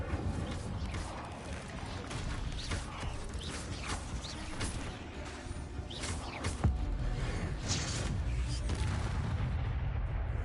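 An Incendio fire spell goes off in a Harry Potter video game amid a busy clash with spiders, with booming bursts and mechanical crackles over continuous dense game noise.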